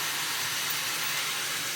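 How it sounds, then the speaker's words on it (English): An American vacuum cleaner running over a rug, a steady close broadband whoosh and hiss with no breaks, no voices. "Maybe if I turn the cleaner on."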